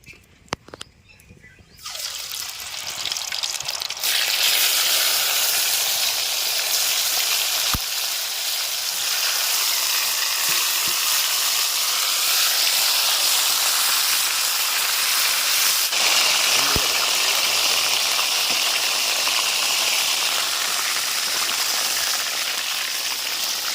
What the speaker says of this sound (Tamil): அடுத்து பார்த்திங்கன்னா நண்டு சில்லியை பொரிச்சு எடுத்துக்கலாம்